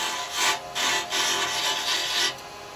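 A carbide chisel takes a few short cuts on a small wooden Christmas angel spinning on a lathe, giving close scraping, rasping bursts separated by brief pauses, with no talk.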